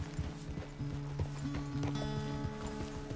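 Horse hooves clip-clopping at a walk in Red Dead Redemption 2, a steady run of close, moderately loud hoof strikes laid over a sustained musical tone and faint mechanical clinking.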